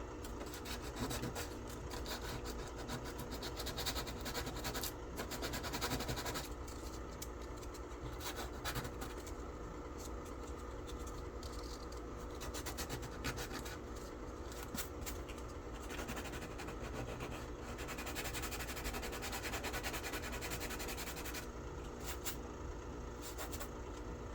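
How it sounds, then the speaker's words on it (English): A model ship part being sanded by hand, a steady, continuous abrasive rasp that runs close and unbroken for the whole stretch with no voices. "And then we're gonna sand away."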